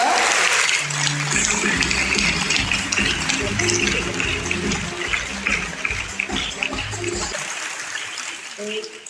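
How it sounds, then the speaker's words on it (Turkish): Loud audience applause at an award night ceremony, a dense, sustained clapping wash with a speaker's voice running over it before the clapping cuts off near the end. "kocaman alkışlarla"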